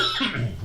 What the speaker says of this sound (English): Give me a second to cough this one out.